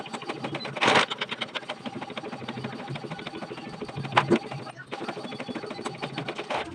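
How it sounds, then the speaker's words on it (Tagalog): A printer runs a school narrative document, giving a close, rapid mechanical chatter of repeated clicks and whirring with a few louder bursts and brief pauses. "So, tapos na po natin i-print ang ating buwan ng wika narrative."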